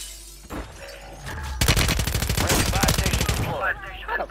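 Call of Duty match with a sustained burst of rapid machine-gun fire close up, preceded by quieter scattered shots, as players talk over the action.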